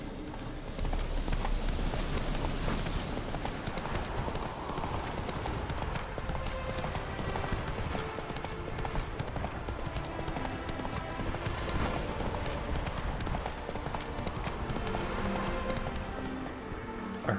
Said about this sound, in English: A herd of wild horses.